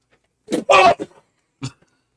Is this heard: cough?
yes